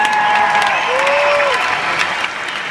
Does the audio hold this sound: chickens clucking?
no